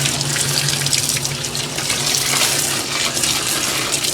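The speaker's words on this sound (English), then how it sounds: "Now I'll just rinse it down with this garden hose." A garden hose sprays water to rinse out a washing machine tub, making a steady, loud hiss and splash that runs without a break, close by.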